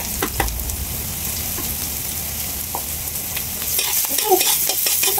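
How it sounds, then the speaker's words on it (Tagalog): Garlic and onion sautéing in a frying pan give a close, steady sizzle with occasional spatula scrapes, growing louder and crackling more in the final seconds. "Ayan guys, nalagay ko na sa kawali yung bawang sa sibuyas."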